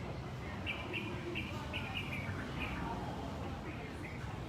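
A series of short, high bird chirps repeats over a low background rumble, moderately near, with faint voices underneath.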